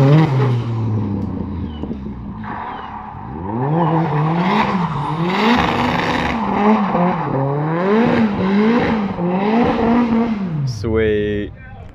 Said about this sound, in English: That's the turbo MX-5.